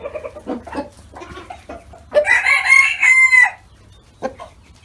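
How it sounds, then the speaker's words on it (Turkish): A nearby rooster crows once, loud and drawn out, framed by soft clucking and low murmurs from fowl before and after. "bu horozu hiç kışkırtmak istemiyorum"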